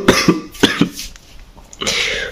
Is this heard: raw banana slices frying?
no